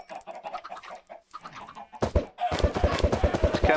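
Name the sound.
angry chickens clucking in video game Minecraft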